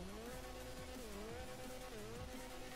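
In-game engine of the Sentinel Classic, a BMW E30, in GTA 5 Online, droning steadily with gentle revs rising and falling and tire noise underneath, heard alone at a consistent level.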